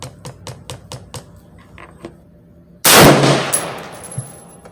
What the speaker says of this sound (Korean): 또 왼쪽 위 타겟 쏘겠습니다